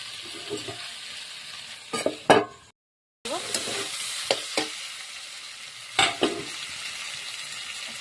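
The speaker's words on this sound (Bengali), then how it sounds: "ভালো করে নেড়ে নেব।" A potato and tomato curry is stirred in a pan, with soft sizzling frying underneath and several sharp scrapes of the spoon against the pan, broken by a brief silent gap.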